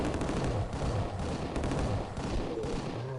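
Dual pistols and a Tommy gun firing in the video game Killing Time, rapid repeated shots in a dense, steady rattle, close and loud throughout.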